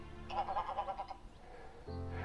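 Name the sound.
greylag geese calling, Cairngorms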